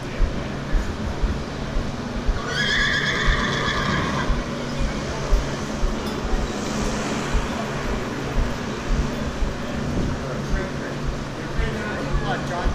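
A horse whinnies once, a brief mid-loud call against steady outdoor crowd and traffic hum, with people chatting nearby.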